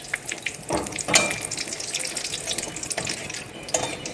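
Dried red chillies and bay leaves frying in hot oil for a chicken potato soya masala, a soft steady sizzle with a few sharper crackles and pops scattered through.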